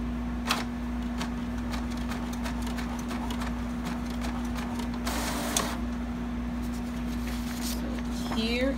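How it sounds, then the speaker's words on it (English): A home inkjet printer printing coupons makes a steady mechanical hum with repeated rhythmic clicking and clacking as paper feeds, plus a louder whirring burst midway, close and continuous. "this is my printer. I'm gonna hit it."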